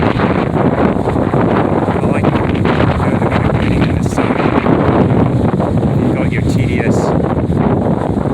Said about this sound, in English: Very windy day here.